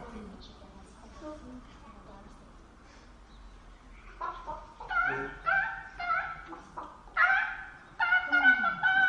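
A person clucks and squawks in a high, choppy voice, imitating a chicken, the calls growing louder and more frantic, with other voices nearby.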